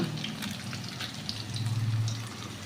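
Turmeric powder and onions fry in hot oil for a village-style garlic curry, giving a close, crackling sizzle with small pops and a low hum beneath, no voices.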